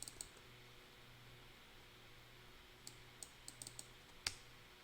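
Quiet computer keyboard typing, a few soft scattered key clicks followed by a short burst of taps and one sharper click, over a faint steady hum.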